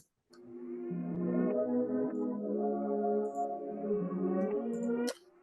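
A music sample plays backwards, with swelling sustained tones that fade in and cut off abruptly, ending in a sharp reversed attack.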